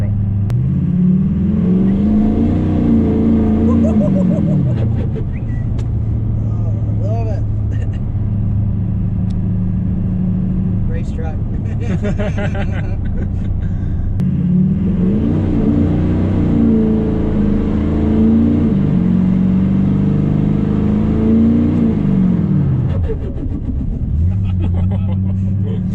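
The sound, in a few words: diesel truck with Allison transmission accelerating hard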